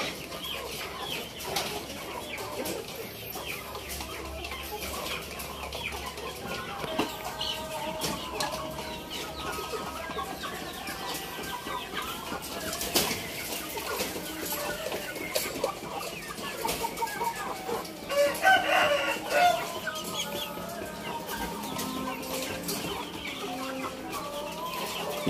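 Three-month-old Indio Gigante chickens in a pen, clucking and calling continuously at moderate distance, with scattered louder squawks over a constant low background of farmyard noise.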